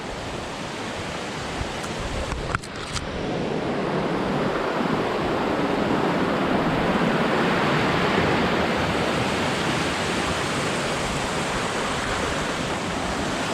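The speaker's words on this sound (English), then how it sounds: "Okay, we're about to see Louisa Falls." Louisa Falls, a waterfall in the Quetico wilderness, roars as a dense, steady rush that swells in after a few seconds of quieter ambience and a couple of brief clicks, then holds loud and constant.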